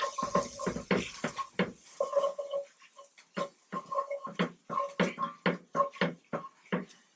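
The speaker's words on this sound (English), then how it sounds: "Give it a stir." A spoon scrapes and knocks around a pot while flour is worked into chicken corn chowder, giving close, rhythmic clinks and scrapes with a faint metallic ring.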